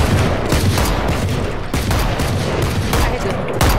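Rapid, loud gunfire sprayed at a wall in Valorant: dense bursts of shots, one after another with almost no gaps, filling the whole stretch.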